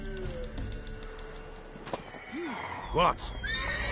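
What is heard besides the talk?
horse neighing and hooves, Witcher 3 video game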